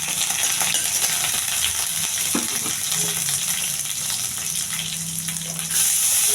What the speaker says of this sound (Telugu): కొంచెం బాగా వేగించాలి.